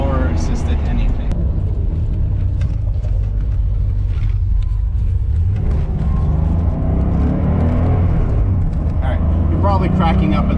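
A classic Porsche 911 SC engine drones steadily from inside the moving car, a continuous low rumble running under someone talking throughout.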